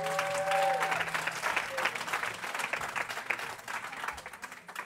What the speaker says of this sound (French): on peut aussi l'applaudir chaleureusement